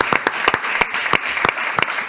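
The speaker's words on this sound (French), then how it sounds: "Applaudissements pour Paul Chabrol." Audience applause at a civic event in Nîmes, with sharp individual claps standing out from a steady wash of clapping for the whole stretch.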